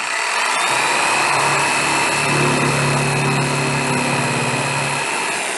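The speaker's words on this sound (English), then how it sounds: "It's not fast with the jigsaw, but it gets the job done." A jigsaw cuts a coped profile into wooden baseboard, a loud, steady buzzing whine that runs without a break and carries no talk.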